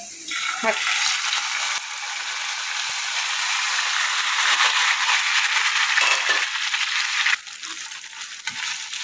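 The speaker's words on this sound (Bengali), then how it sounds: "এখন এটাকে একটু লাল লাল করে ভাজবো" Vegetables frying in oil in a pan over high heat make a loud, continuous hissing sizzle. Occasional light clinks and rattles come through, and the sizzle drops somewhat in level near the end.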